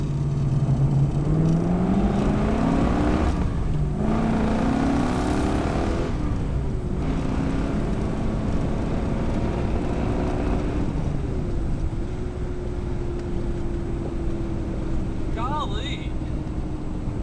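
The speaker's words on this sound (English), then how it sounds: "She really sounds mean." A 1969 Ford Mustang Boss 429 V8 accelerates hard from 0 to 60 on a test drive, its loud engine note climbing in pitch through several gear changes, then settling into a steady drone, with someone talking over it.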